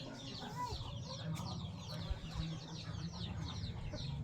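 Short-nose long-tail roosters cluck and murmur nearby in a steady, overlapping chatter of soft calls, with a few louder bursts, moderately quiet overall.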